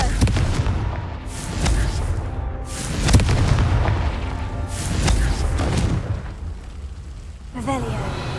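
A Confringo fire spell explodes in the Hogwarts Legacy video game, heard as a series of loud booming blasts over a continuous rumbling game soundscape.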